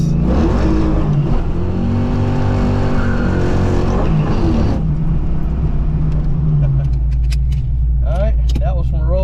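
A 1988 LX with a 331 stroker engine accelerating hard on a 125 shot of nitrous, a loud rising engine roar from a roll that cuts off midway into lighter rumble with brief voices.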